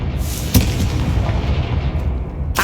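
A Confringo fire-blast spell goes off in Hogwarts Legacy, a booming blast at the start followed by rumbling, crackling burst tails and a second sharp hit near the end, loud and close.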